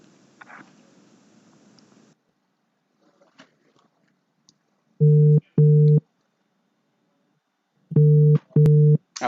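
A telephone busy signal sounds while a line is dialed, two pairs of loud, even tones separated by a pause, preceded by faint clicks and a short stretch of background noise.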